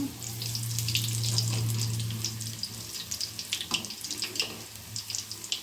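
Bonda batter dropped into hot oil in a home kitchen, a loud hiss as it hits the oil, then settling into a lighter, crackling sizzle with bubbly pops.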